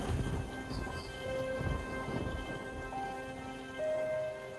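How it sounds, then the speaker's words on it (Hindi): Steady rainy-season rain falls over a village at night while distant thunder rolls and rumbles underneath, continuous and moderately loud, with no voices. "बरसात का मौसम चालू हो चुका है।"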